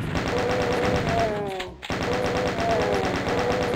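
Rapid chaingunner fire from the Doom 2 mod Invasion 2 rattles in dense, continuous bursts with a short break near the middle, loud and up close over game music.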